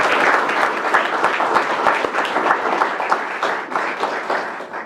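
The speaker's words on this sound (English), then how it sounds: "Let's give them one more round of applause." Sustained audience applause fills a school board meeting hall, steady dense clapping from many hands at moderate loudness throughout, with no speech over it.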